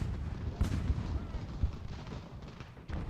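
Artillery fire in the video game Ultimate General: American Revolution, with dull, muffled cannon booms and scattered gunshots rumbling steadily in the mid-distance for a few seconds.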